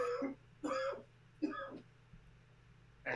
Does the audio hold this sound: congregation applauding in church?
no